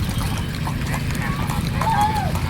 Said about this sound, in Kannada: ಕುದುರೆ ರೈಡಿಂಗ್ ಎಲ್ಲ ಬಿಟ್ಟಿದ್ದಾರೆ ನೋಡಿ ಹೊಸ್ದಾಗಿ